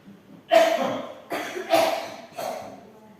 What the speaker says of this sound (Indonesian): batuk dulu ya